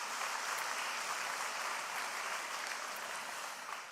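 Audience applause at a municipal New Year's greetings ceremony, a dense, even wash of clapping from a sizable crowd, steady and somewhat distant before easing slightly at the end.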